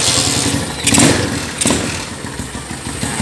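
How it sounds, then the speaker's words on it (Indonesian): A Honda GL100 motorcycle engine cranks and fires, with two sharp bursts as it catches, then settles into a steady, close, loud idle. "Kita nyalakan mesinnya."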